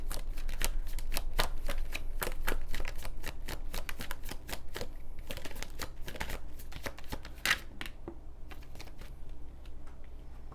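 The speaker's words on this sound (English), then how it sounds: "Six of Pentacles in the reverse." Close, continuous shuffling of a tarot deck, with dense papery flicks and slaps going on for about ten seconds and no voices.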